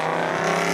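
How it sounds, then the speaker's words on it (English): A Chevy V8 race car at an autocross event in San Pedro/Long Beach gives a brief, loud, steady engine drone with strong harmonic tones, heard close and alone. "You can barely hear me over the V8, the Chevy Power"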